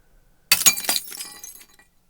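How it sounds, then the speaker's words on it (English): A glass break sound effect: one sharp shatter bursts in suddenly, then scattered tinkling shards trail off over about a second before silence. "I'll include a glass break or shatter on the second crash and see how that sounds."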